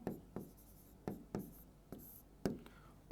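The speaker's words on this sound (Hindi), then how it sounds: "यहां लिख लेते हैं" A pen writes during a Hindi-medium class 10 maths lesson on real numbers, with repeated short scratchy strokes in quick bursts, fairly close and quiet, and no talk.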